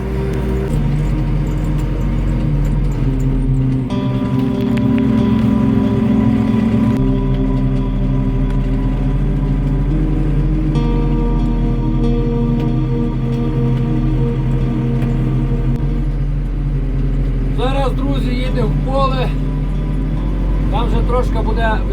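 Skaut TV-904 tractor engine pulling an old SZ-3.6 seeder across an autumn field, a loud steady low drone heard from the cab throughout, with someone talking over it.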